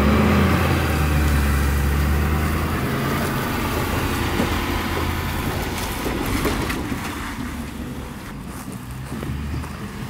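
A Ford Super Duty pickup truck with a 10-speed transmission drives along, giving a steady low engine and road rumble mixed with wind noise that eases slightly over the ten seconds, with no speech.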